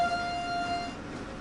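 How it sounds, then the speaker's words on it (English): Locomotive horn in the Train Sim World 3 game, sounded by a train running at about 108 mph down a slight incline: a steady sustained multi-tone blast, fairly loud, holding for most of the moment then easing off. "Let's sound the horn."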